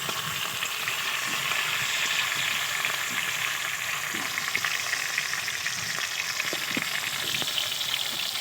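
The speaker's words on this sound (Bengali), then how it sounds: "দেখেছো কতটা সুন্দরভাবে ভাজছি আমি।" Silver carp fish fry in a pan of hot oil with a continuous, close sizzle. Small crackles and occasional stirring clicks come through, and no one speaks.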